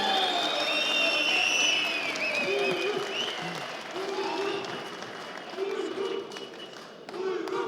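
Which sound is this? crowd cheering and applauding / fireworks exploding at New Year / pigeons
crowd cheering and applauding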